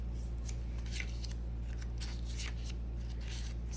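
Playing cards being shuffled and mixed around on a table, soft irregular swishes and light slides, close and quiet over a steady low hum.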